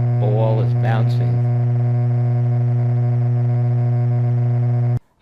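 A Haken Continuum EaganMatrix kinetic model, bouncing-ball patch, gives a loud steady buzzing hum with a distorted, gritty edge. A brief voice is heard early, and the sound cuts off abruptly near the end.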